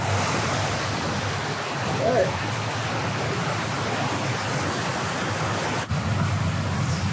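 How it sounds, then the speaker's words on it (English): Steady, loud rushing water in an underground tunnel in Toronto, a continuous dense roar that never lets up across the whole stretch. "there's water in here, bro"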